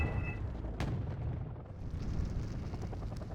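Bombing strike explosions in the Wargame: Airland Battle video game, a sharp blast followed by a loud, rolling low rumble under a continuous heavy battlefield din, with no talk.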